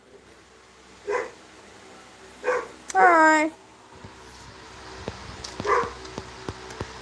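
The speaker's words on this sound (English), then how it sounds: "my dog's barking" A pet dog barks several times indoors during a live stream, with short separate barks scattered across the clip and one longer whining yelp in the middle, all heard at moderate distance with a person speaking briefly.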